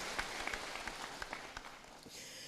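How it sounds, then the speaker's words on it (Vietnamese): Applause from a church congregation during a thanksgiving Mass, a faint, distant patter of scattered hand claps that carries steadily throughout. "Chúng ta cùng cho một tràng pháo tay để chúng ta chào quý đức cha và cha"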